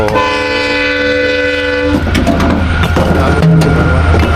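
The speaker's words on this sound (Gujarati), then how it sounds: "અને મિત્રો આમાં ટ્રેન પણ આવી રહી છે." A loud train horn blares, then the heavy rumble and rhythmic clatter of a train passing close by, with sharp metallic clanks.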